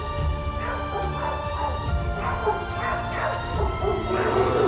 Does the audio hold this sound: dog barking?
yes